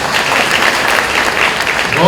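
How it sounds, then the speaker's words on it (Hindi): Farmers at a natural farming event in Gandhinagar district applaud themselves, a steady crowd of many hands clapping for about two seconds at close range. "अब आप अपने लिए ताली बजाओ"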